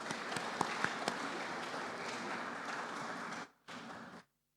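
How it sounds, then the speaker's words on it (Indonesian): An audience in a church service claps steadily for a group of children, a dense even applause that stops abruptly near the end. "Mari kita beri aplaus sekali lagi buat anak-anak kita."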